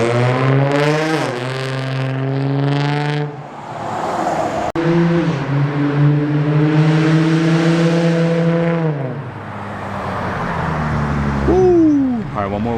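Nissan 350Z with a Tomei exhaust revving hard on a test pass, loud and near, rising in repeated high-pitched sweeps with a brief dip midway and a final climb, with people shouting over it.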